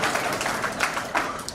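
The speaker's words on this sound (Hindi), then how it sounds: "अभी भी तालियां कम आ रही हैं।" A crowd at a Hindi comedy poetry gathering gives brief, modest applause, a soft rippling patter of clapping that stays fairly even over a second or two.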